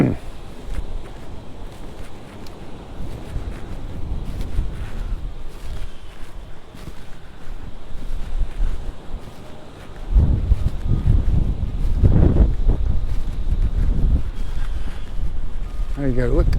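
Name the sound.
wind on a beach in Magaluf, Mallorca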